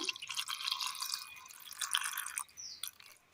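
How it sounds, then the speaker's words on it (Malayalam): Water pours into a blender jar of cooled drumstick leaves for a chutney, a steady close splashing trickle for about two and a half seconds before tapering off, with no talking. "ഇതിലേക്ക് ഒരല്പം വെള്ളം കൂടി ചേർത്ത് കൊടുക്കാം."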